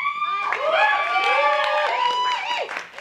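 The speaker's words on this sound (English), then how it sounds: "let's hear some applause if you want to see the magic" An audience at an open stage show at Monkey Jacks bursts into loud whoops and cheers with some scattered clapping, many voices overlapping close by for a few seconds.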